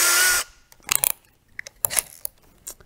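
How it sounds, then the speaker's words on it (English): A small drill with a 1/16 inch bit bores into the posts of a Hot Wheels-style Tesla Model 3 toy car, a loud half-second whir at the start followed by scattered faint clicks and handling taps. "I keep handy in there the little 1/16 inch drill bit that we'll need to drill these posts with."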